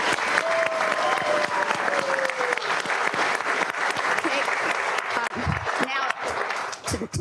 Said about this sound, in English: let's give another round of applause to our choirs